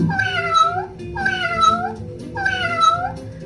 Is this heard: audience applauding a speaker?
no